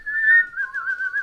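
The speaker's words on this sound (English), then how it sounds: "Why am I whistling so much?" A person whistles a short tune alone, a clear, close, wavering tone that slides down in pitch partway through.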